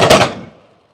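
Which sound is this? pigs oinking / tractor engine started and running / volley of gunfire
volley of gunfire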